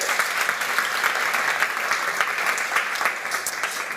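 Conference audience applauding a panelist, a Vrije Universiteit of Amsterdam professor of diversity and integration, at an integrating cities panel: steady dense clapping from a full room, alone and sustained throughout.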